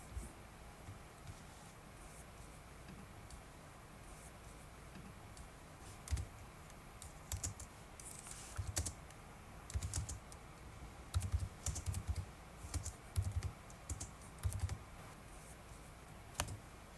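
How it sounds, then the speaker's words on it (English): Typing a circuit netlist on a computer keyboard, with soft, close key clicks that start sparse and grow into denser irregular bursts toward the end, quiet with no speech. "Let me now type the full netlist."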